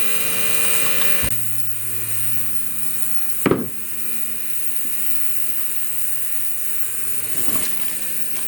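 Ultrasonic cleaner tank cleaning degreased parts from a 1937 Briggs and Stratton Model A engine, a continuous even electric hum and buzz broken by a few sharp clicks or knocks.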